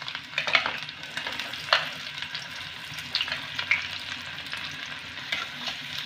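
Chopped onion frying in a hot pan for a dhaba style tarka, a steady close sizzle with occasional stirring scrapes and bursts of spitting oil.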